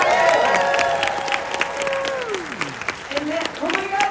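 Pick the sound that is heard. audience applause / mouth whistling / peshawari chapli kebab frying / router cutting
audience applause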